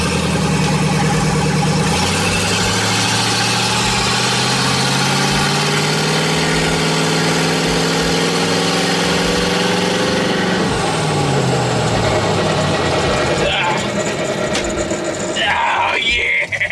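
Shelby GT500 Mustang V8 with a tubular front end runs loud and close throughout, idling with a steady throb and then revving up in rising sweeps. It settles again toward the end, when a voice briefly speaks.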